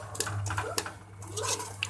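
Water poured into a pot of chole, a chickpea curry, as a short run of splashing, sloshing bursts over a low steady hum, with faint clinks of the pot.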